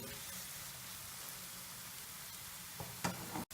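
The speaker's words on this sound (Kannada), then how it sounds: "ಶುಂಠಿ ಬೆಳ್ಳುಳ್ಳಿ ಹಸಿ ವಾಸನೆ ಹೋಗೋವರೆಗೂ ಚೆನ್ನಾಗಿ ಫ್ರೈ ಮಾಡ್ಕೊಳ್ಳಿ" Ginger and garlic fry in a pan for a chicken and capsicum dish, giving a steady, close sizzle with a few sharper clatters near the end.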